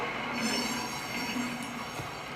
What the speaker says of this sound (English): And we've derailed a locomotive.